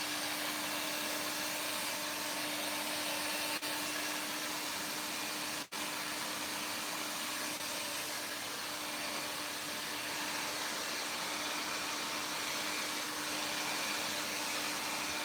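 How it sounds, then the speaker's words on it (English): A handheld hair dryer blows steadily on freshly wetted hair in a barbershop during a mid fade and beard trim, a constant loud airy whoosh with a faint tonal hum, briefly cut once, with no talk. "I'm gonna blow dry it forward."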